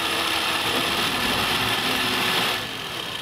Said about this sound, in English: and then I whisk it for 3 minutes